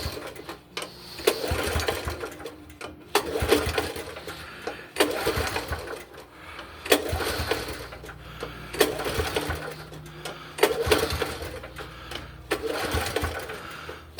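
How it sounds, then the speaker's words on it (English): A flooded Honda HS724 snowblower engine is pull-started over and over, each rasping crank of the recoil cord coming roughly every second and a half, about eight pulls in a row without the engine catching. "To start a flooded engine, you want to pull this about 8 to 10 times."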